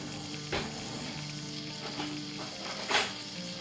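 Butter sizzling in a pan, a steady hiss with a few brief scraping or clattering accents.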